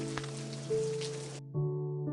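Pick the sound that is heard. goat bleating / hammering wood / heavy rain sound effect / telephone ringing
heavy rain sound effect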